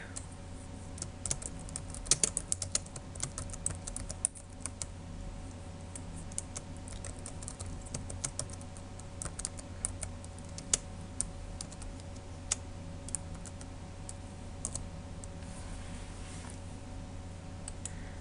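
Quiet, steady clicking of a computer keyboard as C++ code is typed for a tic-tac-toe programming project, with scattered keystrokes over a low background hum and no talking.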